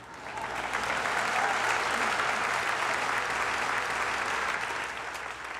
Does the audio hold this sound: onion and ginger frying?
no